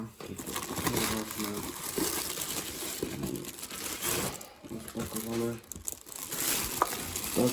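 Paperwork and an invoice rustle and crinkle as a package is unboxed, with soft crumpling and handling noises running through the whole stretch under steady talk.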